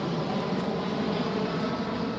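An airplane flying overhead near an airport gives a loud, steady broadband engine roar that stays constant through the short stretch, with no talking.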